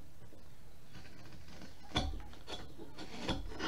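A knife trims wood on a caricature carving of a Native American figure, giving two short, close scraping cuts over a faint steady background hiss.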